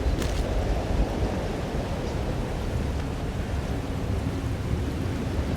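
A thunderstorm in the video game Life is Strange: Double Exposure, a dense, steady roar of heavy rain and low rumbling thunder filling the whole stretch, no voices.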